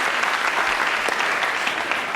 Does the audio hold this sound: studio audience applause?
yes